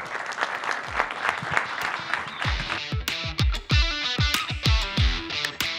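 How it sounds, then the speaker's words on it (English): Audience round of applause at a summit team presentation, clapping heard through a distorted, low-quality recording with strong thumping booms, moderately loud and uneven across the clip. "Round of applause."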